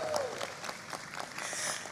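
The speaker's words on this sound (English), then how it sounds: "Round of applause" Brief, faint clapping and cheering ripple through an audience at an airline welcome ceremony held in an aviation hangar in the US Virgin Islands, with a voice speaking over it.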